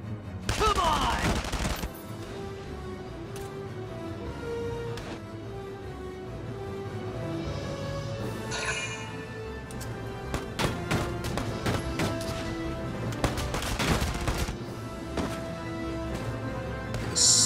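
Gunfire erupts in a Valkyria Chronicles 4 battle counterattack: an opening volley followed by repeated bursts of rapid fire and sharp shots, loud and layered over steady game music.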